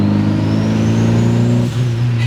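A 350 hp turbocharged Honda Accord engine revs hard under acceleration, a loud, steady, close drone that holds its pitch and briefly dips near the end, with no talking.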